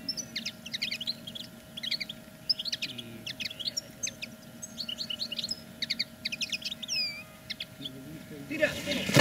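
Goldfinches chirping around a bird-catching net set in an autumn countryside field, many quick high twittering calls in scattered bursts throughout, fairly close and clear over a low steady hum, with rustling noise at the end.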